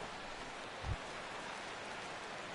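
Steady rain falls across a ballpark in MLB The Show 16, a soft even hiss of drops that stays faint and uniform, with a single brief low thump partway through.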